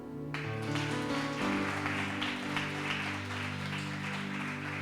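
Church congregation applauding: a steady wash of clapping from many hands rises quickly and holds, layered over sustained organ or keyboard chords, with no speech on top.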